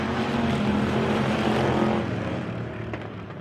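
Race cars roar off at the green flag of a weekly race at Victory Lane Speedway, a dense, loud engine drone that holds steady, then eases slightly as the pack moves away.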